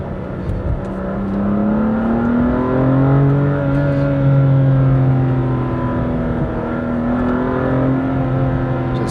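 A BMW M2 CS engine pulling through gears, its pitch rising and falling through several downshifts, loud and close.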